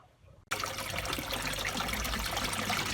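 A washing machine pumping out its water: after a brief quiet moment a sudden steady rush of draining water starts and keeps flowing evenly, close and continuous, with no talking.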